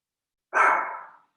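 One sharp, loud dog bark rings out alone, close by, with a quick attack and short fading tail against silence.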